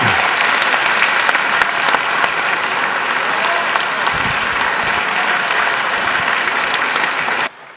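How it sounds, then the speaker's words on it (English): Sustained, full applause from a concert audience at a Christmas concert, even and close throughout before cutting off abruptly near the end. "give a big round of applause to all our team here"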